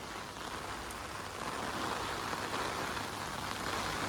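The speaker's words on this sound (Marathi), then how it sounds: "पाऊस पण खूप जोरात चालू आहे" Heavy rain pours steadily near a small waterfall, a dense, continuous hiss that swells slightly louder partway through with no voices.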